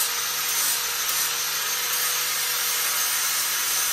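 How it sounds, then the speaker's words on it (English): A wooden axe handle is ground down to fit the axe head, giving a loud, continuous abrasive roar that holds steady throughout with no pauses and no voices. "so that's where I start grinding at"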